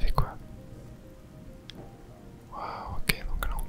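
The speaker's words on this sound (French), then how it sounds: "Et il pleut." Soft steady rain pattering in an ASMR relaxation video game, a gentle hiss under a quiet whispered French voice with a few faint drops and clicks.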